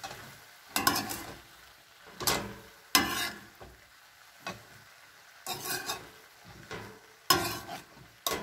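Mixed vegetables being stirred in butter in a pan, with several separate bursts of scraping and clinking over a soft sizzle, spaced irregularly and fairly close.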